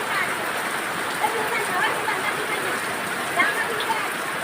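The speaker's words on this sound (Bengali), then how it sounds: "অনেকক্ষণ ধরে বৃষ্টি হতেছে" Heavy rain falls steadily in rural Bangladesh, a dense continuous patter on surfaces with scattered louder drops, close and unbroken, with no clear talk over it.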